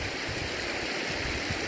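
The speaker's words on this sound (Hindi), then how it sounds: "ये पानी की दीवारों में लीकेज है।" Water rushes and leaks through the walls of the lower Khajuri dam in Mirzapur, a steady, faint broadband hiss with no voices.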